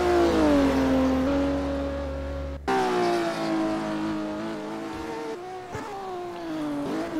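Porsche Cup race car engine in a sim racing game, a steady high-pitched howl with clear harmonics, abruptly cutting at one point then resuming and shifting pitch as the car loses grip, loud and close with no talk.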